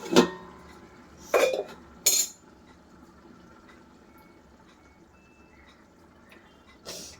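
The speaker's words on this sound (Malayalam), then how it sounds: "നമുക്കിനി ഇത് മൂടി വെക്കാം" A lid goes onto a pot of beef curry with a few sharp metallic clanks near the start, then a quiet stretch and one more soft clink at the end.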